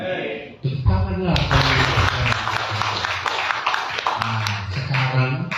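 A church congregation in Parapat claps their hands together, a dense, continuous patter of many hands running under a voice that speaks and sings throughout.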